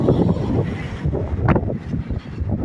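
Gusty wind buffets the microphone with low rumbling bursts on a hillside overlooking İzmir, loud and close, rising and falling unevenly.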